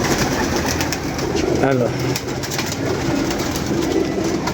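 A pigeon gives a short, soft coo amid ongoing chatter and background noise, heard briefly midway.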